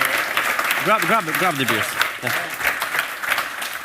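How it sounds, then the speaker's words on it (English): Audience applause for speakers at the Codegarden 2022 conference, a dense clatter of many hands clapping that continues throughout while a voice speaks briefly over it. "Big long round of applause for our speakers today, right?"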